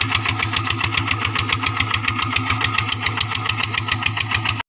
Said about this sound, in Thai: ใช้รถไถ เดินตามไถ